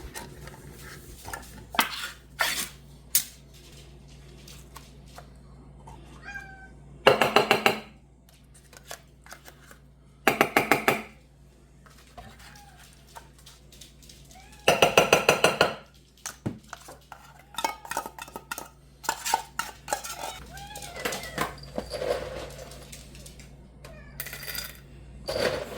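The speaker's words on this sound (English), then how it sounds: "right now we're feeding the 4 kitties" Food dishes clink and rattle while four cats are fed, with sharp metallic clatters arriving in several short, loud bursts. Softer scraping and tapping fill the gaps close by.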